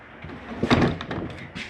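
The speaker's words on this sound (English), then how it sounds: "Your other bedroom door snaps here." An RV bedroom door in a Jayco Eagle 340DROK camper snaps shut with a brief close-range clack, followed by small rattles and a quieter latch click, no talk over it.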